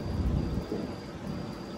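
Thunder from a nearby storm during a weather warning, a steady low rumble with rain-like noise filling the short stretch, fairly loud and continuous with no talking.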